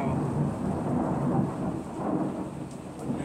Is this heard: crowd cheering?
no